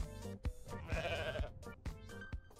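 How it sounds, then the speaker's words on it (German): Goat bleating in the Goat Simulator video game: several short, loud bleats repeat in quick succession over a busy game soundtrack, with no talk. "weil er macht Ziegengeräusche, obwohl er kein Ziege ist."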